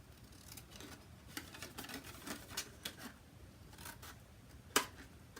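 Scissors snipping paper diagonally across a strip for a handmade box, a run of quiet, close crisp cuts in an uneven rhythm, ending with one sharper snip.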